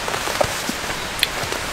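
Rain patters steadily on a tarp tent in a rainforest, a dense even hiss broken by a few louder individual drops striking close by, with no voices.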